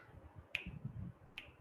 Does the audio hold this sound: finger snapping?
yes